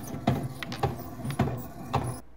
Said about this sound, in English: The shaker does make a loud clunking sound like you hear here.